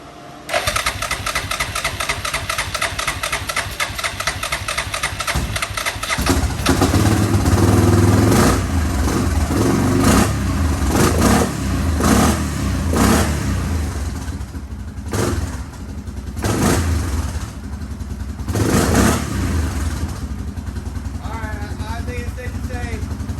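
Yamaha Grizzly 660 four-wheeler with a freshly cleaned carburetor cranks with a rapid starter whir, then fires up and runs loud and close, the engine surging and revving unevenly while a person talks over it.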